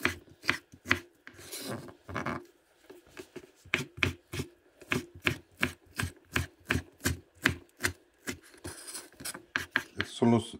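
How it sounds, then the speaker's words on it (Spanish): A knife chopping raw beef liver on a cutting board for tacos de hígado encebollado: a long run of sharp, close, evenly spaced chops, speeding into a steady quick rhythm, with no talk over it. "Entonces ya ahorita lo voy a picar"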